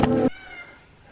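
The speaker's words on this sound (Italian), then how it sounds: "Ciao gatto Denver!" A cat gives one short, close meow, then quiet room tone follows.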